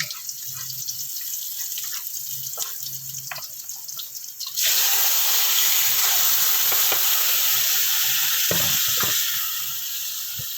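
Chicken pieces hitting a hot frying pan for adobo, quiet clinks and handling giving way to a sudden loud, steady sizzle that continues and eases slightly near the end.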